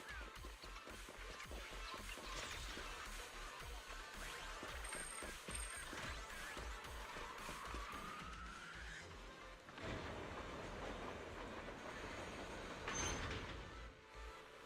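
A train in the video game Zenless Zone Zero rumbles and clatters along continuously, with a rising metallic squeal and a loud clank near the end.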